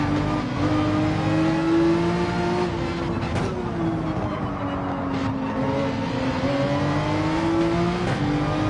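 Ferrari race car engine in Gran Turismo 7 online racing, a loud sustained whine that rises and dips as the car accelerates and shifts through corners, steady with no talking.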